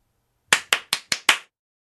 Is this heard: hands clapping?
yes